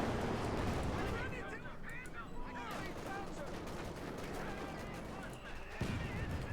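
Battlefield gunfire in Company of Heroes 2, Wehrmacht against Soviets with a Panther tank and rifle squads, rattling in dense bursts across a busy battle soundscape, with a commentator's voice running over it.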